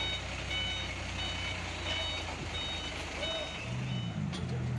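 Heavy equipment working to recover a crashed bus from a ravine at a reservoir in Sumedang, West Java, with a steady engine rumble, repeated reversing beeps and a brief air-brake hiss near the end.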